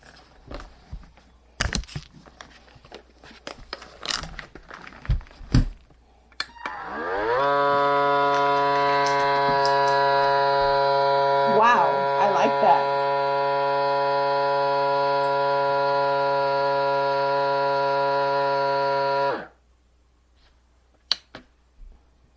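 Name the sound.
vacuum sealer running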